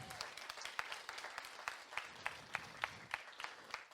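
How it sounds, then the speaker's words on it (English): A crowd applauding steadily, with a dense patter of clapping and some louder individual claps standing out, heard from a moderate distance. "a round of applause for the McNiffes and the Faughnans"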